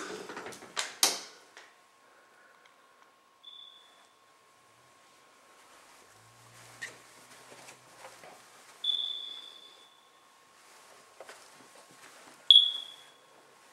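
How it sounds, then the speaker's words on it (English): A smoke detector with a low battery gives short, high chirps at intervals in an otherwise quiet room of a South Florida house, alongside faint thumps and rustling. "That chirping you hear is the low battery and the smoke detector, in case you're wondering."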